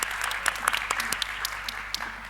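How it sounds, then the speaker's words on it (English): Audience applause for conference panelists at the close of a geopolitics panel on semiconductors and strategic influence, a steady wash of clapping from a crowd throughout, moderately loud with no talk over it. "let's applaud the wonderful panelists for their interventions"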